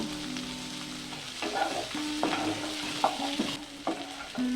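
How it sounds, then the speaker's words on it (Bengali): Potatoes frying in a pan, partly cooked, with a steady sizzle broken by several distinct stirring scrapes and clatters that recur every half second or so, close up and with no talk. "আলুগুলোকে ভেজে ফিফটি পারসেন্ট আমরা রান্না করে নেব"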